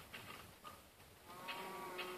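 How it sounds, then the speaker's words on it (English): Mooshroom cows in Minecraft, played on PlayStation 3, letting out a few faint, short low moos at a farm against quiet background noise. "Up here we've got the red cows with mushrooms on them."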